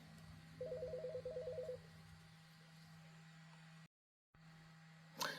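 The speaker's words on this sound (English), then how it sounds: "Sorry, that was a terrible time to get a phone call." A telephone rings with an incoming call during a crochet tutorial: two short bursts of warbling electronic ring over a steady low hum, then a brief dropout and a small click, with no talking.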